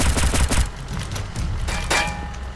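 Gunfire rattles in the video game Pixel Gun 3D, PC edition, as a loud dense burst of rapid shots followed by sparser reports and a brief tonal whine, close and with no talking over it.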